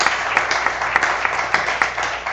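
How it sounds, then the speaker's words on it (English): An audience at a live spoken-word poetry event applauds, a steady stretch of clapping with regular louder hand strikes standing out through the wash. "Give him a round of applause."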